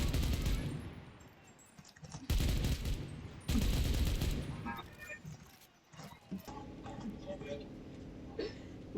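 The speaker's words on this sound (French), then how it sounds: "maintenant on y va à la grosse mitrailleuse." Bursts of heavy machine gun fire in a World War II multiplayer shooter game come in loud chunks amid battlefield noise, with a player talking over the action.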